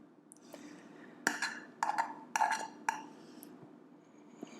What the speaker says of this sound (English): you just take a spoon and just push that all through